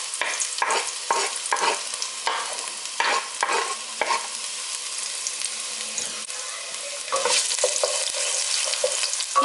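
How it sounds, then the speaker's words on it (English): Chopped garlic and ginger hit hot oil for a chicken curry, giving a steady crackling sizzle punctuated by stirring scrapes and a louder burst near the end, with no voices. "The oil is now ready and I'm going to add the garlic and ginger."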